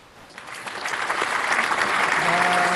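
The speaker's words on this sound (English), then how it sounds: "I want to give everybody a round of applause." An audience at a live outdoor talk event breaks into applause, starting as scattered claps and building into steady, dense clapping from a crowd close by.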